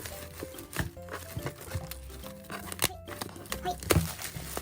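Plastic wrap being peeled and torn off a BTS 5th Muster Magic Shop Blu-ray case, close crinkling and sharp tearing bursts in irregular spurts, with a voice speaking at times.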